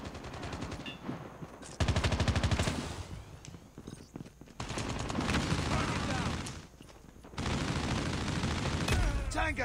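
Automatic weapon gunfire in the mobile shooter Call of Duty Mobile, played with a gamepad: loud, rapid sustained bursts that come in several long strings separated by brief pauses, with faint background sounds between them.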